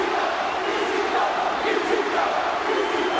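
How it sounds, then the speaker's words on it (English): Arena crowd in the WWE 2K23 wrestling game roaring with a steady, dense chant for TJ Nicholson, a constant wall of voices without pauses. "The crowd seemingly is getting louder. And there's the ECW chants for TJ Nicholson."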